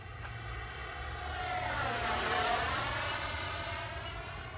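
A Freewing F-14 64mm EDF radio-controlled jet flies an inverted pass with its wings swept, its steady turbine whine rising and falling as it passes with a Doppler sweep. A low hum runs underneath throughout.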